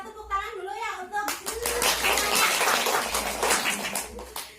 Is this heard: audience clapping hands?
yes